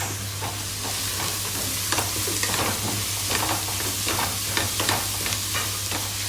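Cumin seeds frying in a pan, a loud continuous close sizzle with repeated scraping stirs over a low steady hum, no voices.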